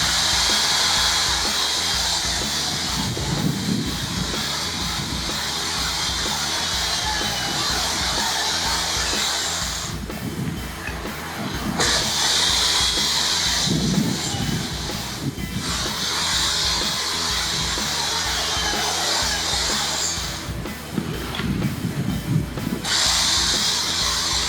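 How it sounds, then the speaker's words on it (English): A chainsaw cuts ice for carving, giving a continuous loud high whine with the engine note rising and dipping as it bites, close and without talk. "Chainsaw's great for these nice straight edges."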